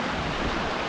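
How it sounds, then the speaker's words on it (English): River water rushing through the wild landscape of Invermark, Scotland, a dense, loud, unbroken roar close to the microphone, with a waterfall nearby. "look how the river flows here"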